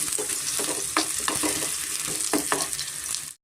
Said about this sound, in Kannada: ಸ್ವಲ್ಪ ಎಣ್ಣೆನ ನಾವು ಚೆನ್ನಾಗಿ ಫ್ರೈ ಮಾಡ್ಕೊಬೇಕಾಗುತ್ತೆ